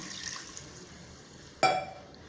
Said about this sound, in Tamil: ஃப்ரெண்ட்ஸ், இப்போ நம்ம ஒரு சொம்பு தண்ணி ஊற்றலாம்.